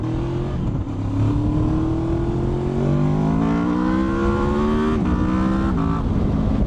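Honda VTEC engine revving hard through the gears, pitch climbing steadily to high rpm, dropping at a shift, then climbing again, loud and close from inside the car.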